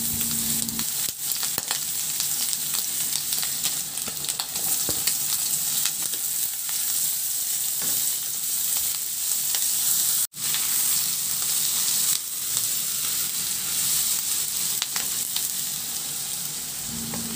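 Onion being sautéed with garlic in a pan for a tofu and pork dish, giving a continuous bright sizzle with occasional stirring scrapes and one sharp clack midway, close and steady with no voices.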